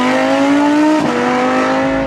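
A Lamborghini Gallardo's 5.2-liter V10 revs loud and close, a steady harmonic engine roar that holds its pitch before dipping slightly midway and carrying on without any voices.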